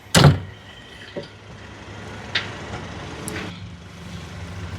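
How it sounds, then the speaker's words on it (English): Power entry steps on a 2025 Entegra Condor RV built on a Sprinter 3500 AWD chassis, with a sharp clunk at the start, then a soft motor whir and a few small clicks as the steps fold out. "we have our power steps easily folding out"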